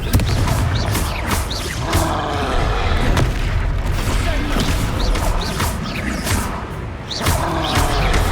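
Confringo fire spell exploding in combat in Hogwarts Legacy, loud dense booms and crashes layered over a constant rumbling battle din, with a shouted voice briefly in the mix.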